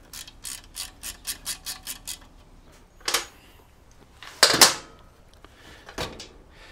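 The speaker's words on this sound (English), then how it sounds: "Take a 10 millimeter socket. You should be able to get the socket on there." Ratchet with a 10 mm socket loosening bolts on a 1970 CL350/CB350 motorcycle fork, starting with a quick run of evenly spaced clicks, then a few separate louder metallic clacks, close up and with no talk.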